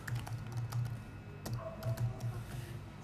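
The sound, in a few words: typing keyboard shortcuts on a computer keyboard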